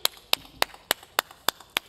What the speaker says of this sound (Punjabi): ਜ਼ੋਰਦਾਰ ਤਾਲੀਆਂ ਸੁਦੇਸ਼ ਲਹਿਰੀ ਜੀ ਲਈ